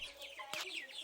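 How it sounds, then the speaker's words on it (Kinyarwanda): Sasso breed chicks in a poultry-rearing setup, soft high cheeping and clucking calls that repeat several times over a short, fairly quiet stretch. "Imishwi yo mu bwoko bwa saso,"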